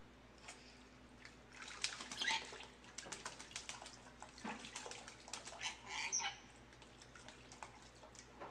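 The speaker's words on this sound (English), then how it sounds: "Did you know that parrots like to take baths?" Faint splashing and dripping water with quick flutters and small bird chirps, soft and intermittent, as a parrot bathes.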